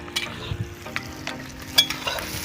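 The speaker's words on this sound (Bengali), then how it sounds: "পেঁয়াজ ভাজা" Onions frying in a pan at an outdoor picnic cookout, a soft steady sizzle broken by scattered clicks and scrapes of stirring, fairly quiet and close.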